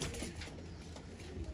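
Pigeons, including golden and barred hens, kept for sale, cooing softly and continuously at close range, with low throaty coos repeating under steady background noise and no talk.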